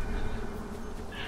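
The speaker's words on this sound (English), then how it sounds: "This guy's just hanging out by the bees." Bees in the video game Shadow of Mordor give a steady, close insect buzz that hums without a break, loud and alone with no talk over it.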